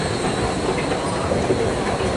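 Constant low rumble of a train at Moynihan Train Hall in New York City, a faint squeal now and then, with no voices over it.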